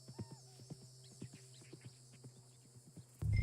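Horse in the video game Red Dead Redemption 2, quiet rhythmic hoof clops at a steady walking pace, faint and close, ending with a sudden louder burst.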